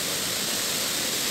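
A swollen river in a hill setting rushes past close by after recent rain, a constant loud broadband roar with no breaks and no voices.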